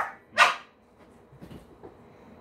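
Maltese Shih Tzu mix giving one sharp, high yip-like bark close by, followed by quiet faint whimpering sounds in a still room.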